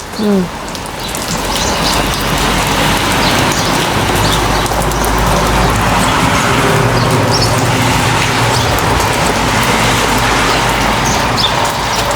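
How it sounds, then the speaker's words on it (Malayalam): Heavy rain pours down steadily and loudly, a dense hiss of drops drumming on surfaces close by throughout. "നല്ല മഴ"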